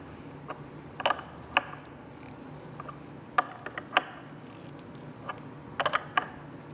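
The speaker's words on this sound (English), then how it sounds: "Take our 14mm wrench. Tighten that down." A 14mm wrench tightens a mirror bolt on a 2025 Liberty scooter, with sparse close metallic clicks and ratcheting ticks scattered over a quiet background.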